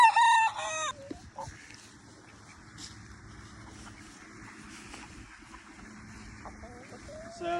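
Chickens on a 16-acre farm cluck steadily and close by, with a rooster's crow ringing out loudly at the start and more scattered clucks and calls continuing throughout, with no one talking.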